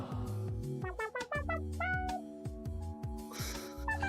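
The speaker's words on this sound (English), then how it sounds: "Here's kitties being kitties." Several cats meow in a rapid string of bright, pitch-sliding calls, some overlapping and drawn out into caterwauls, loud and close, with no talk in between.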